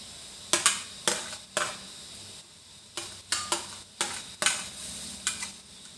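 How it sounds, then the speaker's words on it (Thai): Cucumber stir-fried in a pan gives a sequence of sharp spatula scrapes and clacks roughly every half second. Each stroke stands out clearly over a low sizzle. "ผัดบักแตงให้สุกก่อนเขาจะใส่มะเขือเทศนะจ้า"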